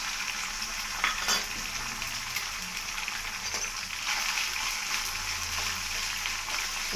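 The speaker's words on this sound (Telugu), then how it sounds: "ఇప్పుడు జీలకర్ర వేస్తున్నాం." Cumin seeds sizzle steadily in hot oil while pongal is being cooked, a continuous close frying hiss with occasional stirring scrapes.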